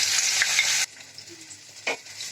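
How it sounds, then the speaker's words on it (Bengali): Loud, bright sizzling of potatoes frying in hot oil in a kadai cuts off abruptly, leaving a quiet pan with a brief stir. "এবার আমি এই আলুটি আগে ভেজে নিচ্ছি"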